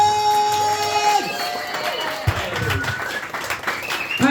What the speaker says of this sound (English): please put your hands together, stomp, chat, clap, cheer for the amazing Jen